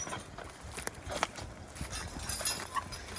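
Two working horses step slowly into their collars while pulling a plow, hooves clip-clopping in an uneven, unhurried rhythm at close to middle distance, with no talking.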